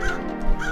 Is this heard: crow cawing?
yes